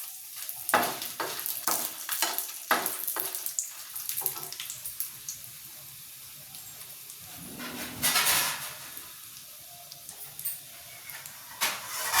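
Dried red chillies fry in a spoonful of oil for gogula pachadi, a faint crackling sizzle broken by sharp spoon scrapes and clinks against the pan, with a louder burst of hiss near the end; no one speaks.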